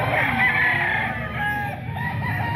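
A rooster crows loudly and close by in a long drawn-out call, with clucking from other fowl in the background.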